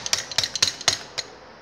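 A small hammer taps a carburetor part on a mini buggy fitted with a Volkswagen Beetle engine, giving about seven sharp metallic knocks in an uneven rhythm, close and fairly loud, with no talking.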